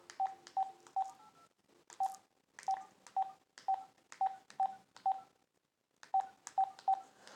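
Telephone keypad tones beeping in short bursts, clusters of quick dial presses separated by brief pauses, clear and isolated with no talking.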